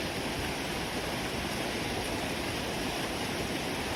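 A continuous roar of water pouring down nearby at Kamabuchi waterfall in Japan, even and unbroken, with no talking over it.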